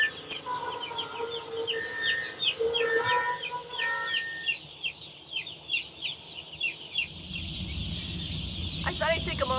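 A dense chorus of young yellow chicks in a chicken barn peeping rapidly and continuously, high and bright, with some clucking-like calls and someone talking over them.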